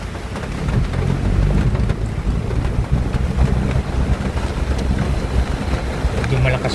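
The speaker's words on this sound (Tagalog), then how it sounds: "Medyo malakas po ang ulan" Heavy rain drumming steadily and loudly, a dense continuous wash with low rumbling underneath and no break throughout.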